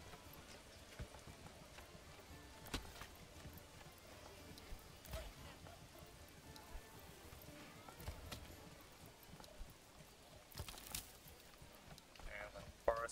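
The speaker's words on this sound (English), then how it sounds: "Okay, we got a horse now too" Horse hooves clip-clop in a quiet, steady, faint rhythm in the medieval city-building game Manor Lords, set against soft ambient rain-like background noise.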